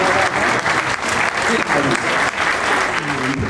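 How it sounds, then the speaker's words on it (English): An audience applauds the ladies of a turn-of-the-century fashion show and parade, dense sustained clapping from a crowd close by, with voices talking over it. "A round of applause for our ladies"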